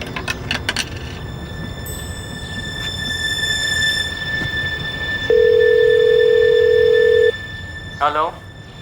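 A telephone rings once at steady volume in the middle of a Hindi crime drama scene, with background hum and a brief voice before and after.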